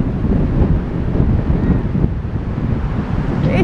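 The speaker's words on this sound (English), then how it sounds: "It is quite windy today as well." Strong wind at the Blackpool seafront at high tide buffeting the microphone in a continuous low roar, loud and close, with no voices.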